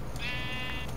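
A single Minecraft sheep bleat, a short buzzy tonal cry lasting under a second, heard alone and fairly close.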